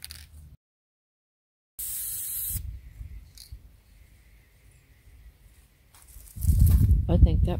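Spray paint hisses from an aerosol can in a short burst as a second coat goes on, with quieter stretches and a louder rustle near the end; a person talks nearby.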